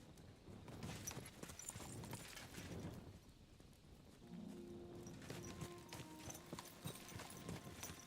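Horse hooves clop in a steady rhythm, quiet and fairly distant, with faint background noise and no talking, in the video game Kingdom Come: Deliverance II.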